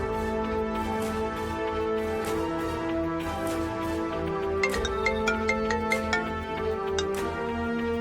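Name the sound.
mobile phone ringtone during a call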